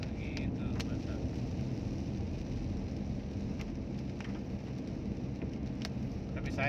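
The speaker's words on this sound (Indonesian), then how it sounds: "Bagus kalau hujan-hujan begini Pak Saleh." Steady rain falls in a dense, even hiss that lasts throughout, with a few faint voices and small knocks far in the background.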